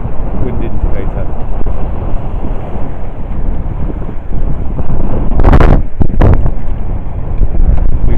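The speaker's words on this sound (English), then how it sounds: "And the wind's quite strong now." Strong wind of about 18 knots roars steadily across the microphone on a sailboat at sea between the Canaries and Cape Verde, loud and continuous, with two sharp gust buffets near the end.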